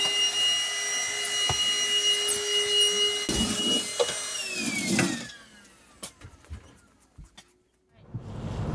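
A vacuum cleaner motor hums steadily for about five seconds, then winds down, followed by scattered clunks and handling noises.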